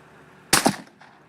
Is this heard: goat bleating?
no